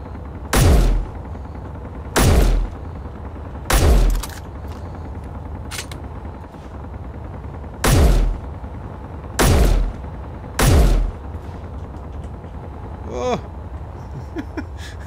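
Enemy gun turret firing in Space Engineers, a space survival game: six heavy, booming shots in uneven pairs and singles a second or two apart, each with a deep decaying tail, loud and close over a quiet ambient hum.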